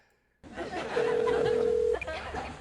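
A telephone line sounds as a steady tone holds for about a second over a busy background of noise and faint voices, then cuts out, close and fairly loud.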